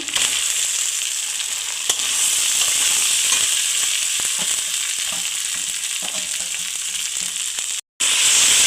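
Boiled lentils hit a hot pan for a Bengali banana-stem and prawn dish, giving a loud, continuous close sizzle with light stirring and one brief cut near the end.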